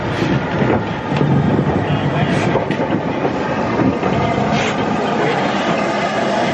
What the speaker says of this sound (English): I don't think many other YouTube vloggers have to deal with being photobombed by a steam locomotive.